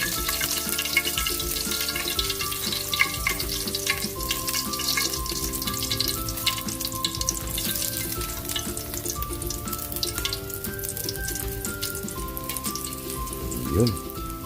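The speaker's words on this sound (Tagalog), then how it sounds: "Luto na yung ating pritong isda." Fish fries in hot oil, a dense, steady crackling sizzle that holds throughout at close range, with a brief louder swell near the end and no talking.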